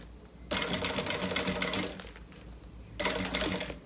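A sewing machine stitches together backpack pieces in two rapid, buzzing bursts, the first about one and a half seconds long and the second shorter, close and clear with a brief pause between them.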